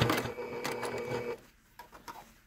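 A sewing machine back stitches binding onto stays, a close run of rapid mechanical clatter that stops, followed by a few short bursts of stitching.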